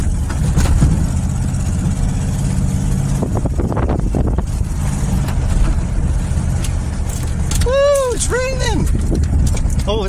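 An old, mouse-infested car engine idles roughly on about three cylinders, a loud, constant low rumble filling the whole clip, with brief voices over it.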